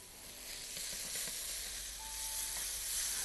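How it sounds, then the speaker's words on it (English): Mung bean dal cooking with pumpkin in a pan gives a faint, steady sizzle and hiss, with a few soft stirring taps and no talk. "So you can hear the sizzling noise."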